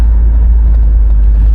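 A 1970 Chevrolet Malibu with a 350 V8 idles and runs with a deep, steady low rumble, loud and close, with no voices over it.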